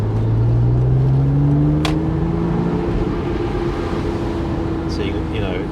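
A Porsche 987 Boxster engine rising to about 4,000 RPM, a loud climbing drone that settles into a steady hum, with someone talking over it.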